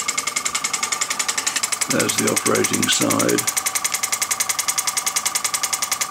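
Wells TE model engine chugging over with a steady, even rhythmic beat close by, someone talking over it in the middle of the run.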